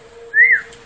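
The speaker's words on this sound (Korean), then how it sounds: "나 휘파람 잘 불었어." A single short whistled note from a person, rising slightly then falling, clear and close over a faint steady hum, lasting well under a second.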